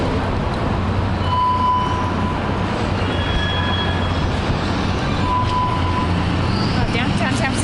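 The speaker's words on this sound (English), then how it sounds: "Where's our final destination on this train, Schools?" Steady rumble of a moving train from inside a carriage, with occasional faint wheel squeals and tones over constant noise.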